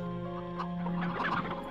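Clucking chickens in the PlayStation game MediEvil, brief bursts of clucks over a sustained musical background, growing busier toward the end.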